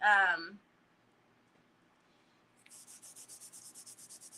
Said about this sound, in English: is just the act of rubbing it down so you can take this part and, you know, do this